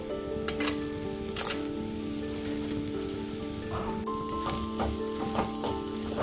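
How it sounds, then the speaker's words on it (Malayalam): Prawns fry in masala in a pan with a steady close sizzle, broken by sharp scraping and clatter from stirring at irregular moments; no voices. "ചെമ്മീനും മസാല നിളക്കി ചേർത്തതിന് ശേഷം ഒരു രണ്ട് മൂന്ന് മിനിറ്റും കൂടി ഒന്ന് ഫ്രൈ ചെയ്താൽ മതി"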